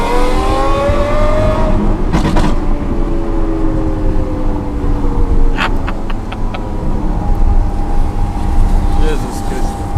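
A Lamborghini SVJ fitted with a Secret Weapon exhaust drives at a rainy toll plaza, its engine loud and close with rising and falling revs, while voices speak over it.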